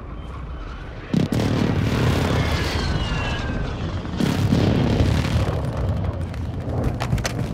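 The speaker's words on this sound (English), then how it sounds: "Friendly airstrike in the AO." Airstrike explosions in Call of Duty: Warzone 2 hit as two heavy, booming blasts with a jet-like roar around them, then rumble on loudly through the rest of the moment.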